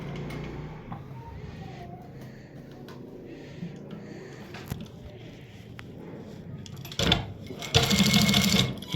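A sewing machine runs a double line of stitching to close a pocket. Quiet handling comes first, then a loud, fast, even stitching whir plays near the end.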